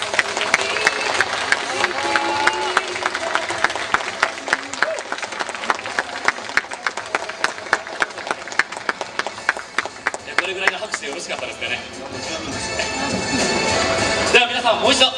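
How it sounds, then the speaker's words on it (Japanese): A stage audience at an outdoor talk event applauds to welcome a former baseball player, sustained dense clapping from a large crowd that keeps going for about fifteen seconds, loud and close, fading into murmur and talk near the end. "盛大な拍手で迎えてください。"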